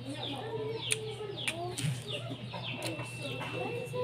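Native chickens cluck in short, scattered bursts, with a few sharper calls mixed in against a steady low background hum.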